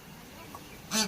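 A village chicken gives a single short cluck at the end, close but fairly quiet, over low background noise.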